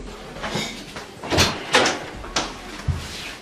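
A door is pushed open and bumped several times in a short, uneven run of knocks and rattles at close range, with a voice briefly audible.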